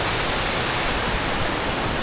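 Powerful cascading waterfall in Croatia, roughly 25 meters high, pours in a steady, loud broadband roar that holds constant throughout, with no voices over it.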